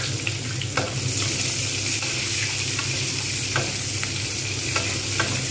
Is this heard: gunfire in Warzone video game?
no